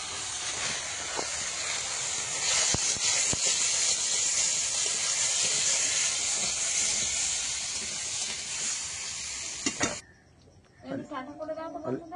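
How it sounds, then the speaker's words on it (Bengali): Onion frying in hot oil gives a loud, steady hissing sizzle for about ten seconds, then cuts off and voices follow. "এখন দিয়ে দেবো একটু তেলে ভেজে নেবো পেঁয়াজটা"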